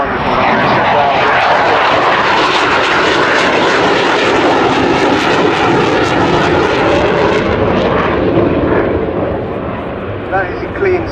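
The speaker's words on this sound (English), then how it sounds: "The successor to the Sea Venom, this one. The Sea Vixen." A de Havilland Sea Vixen, the twin-engine naval jet that succeeded the Sea Venom, makes a loud, sustained roar from both jet engines at an air display, with a voice talking over the thunder, which eases slightly near the end.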